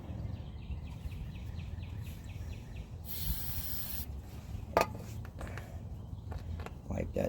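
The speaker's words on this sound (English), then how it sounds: "I need the other can of brake cleaner here" Brake cleaner sprays from an aerosol can onto the front brakes of a 2007 BMW X3: one steady, loud hiss lasting about a second, with clicks and handling noises in a workshop.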